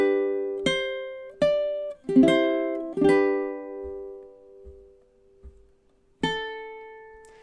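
Ukulele plays the opening four bars of the Irish folk song The Black Velvet Band, slow and in time: single plucked notes and strummed chords ring out one after another, then decay into near silence before a final chord.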